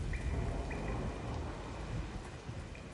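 Steady rain pours in a dark, rainy outdoor area of the video game Lords of the Fallen, a dense, even hiss with low rumble throughout and no voices.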